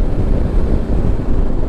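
Wind rushes hard and continuously past a rider on an FKM ARY 500 motorcycle during a long ride, a loud, steady roar buffeting the microphone with no speech.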